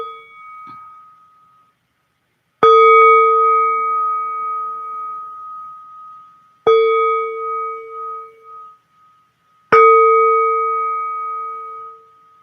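A mindfulness bell is struck four times at slow, uneven intervals, each clear ring sounding alone and fading out gradually, with the first strike softer than the rest.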